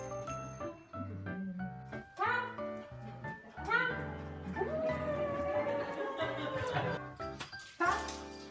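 Guide dog puppies yip, bark and whimper during a leash-training session, in short bursts under background music with some talk nearby.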